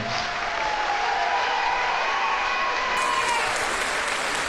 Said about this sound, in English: How about a big round of applause for our fourth graders?